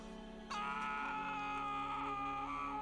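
A scream from the horror shooter game F.E.A.R. starts abruptly after a brief quiet lead-in and carries on as a sustained, loud, strained cry over steady game ambience, with no talking.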